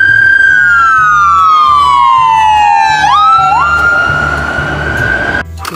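A toy ambulance siren wails loudly with a falling, swooping electronic tone, then jumps back up and holds steady, over a constant rhythmic low hum.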